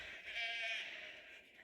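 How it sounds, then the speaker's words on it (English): A single sheep bleats in a field, one sustained, fairly faint call heard over quiet outdoor background. "Chased out of the field by sheep."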